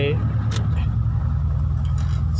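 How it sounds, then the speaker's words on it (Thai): A low, rough idle from a Mitsubishi E-car with a 4G92 engine, shaking and close to stalling under air-conditioning load, a steady rumbling hum heard up close beneath someone talking. "แอร์ โหลดร่วม สั่น เหมือนเจ้าเข้าเลยนะครับ แทบจะดับเลยนะครับ"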